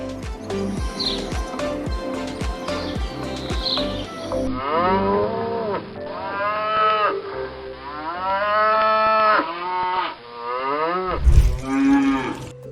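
Longhorn cattle moo loudly and repeatedly, long drawn-out bellows close by, with a few faint bird chirps in the background.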